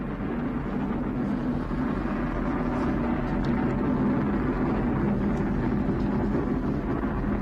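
Atlas rocket with its RD-180 main engine roars steadily about 30 seconds into a launch toward the space station, a dense, continuous rumble that holds evenly loud throughout with no voices over it.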